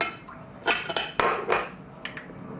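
A spoon digs into a vegan blackberry and peach cobbler in a baking dish, with a few scraping, clinking contacts of metal on the dish, close and sparse.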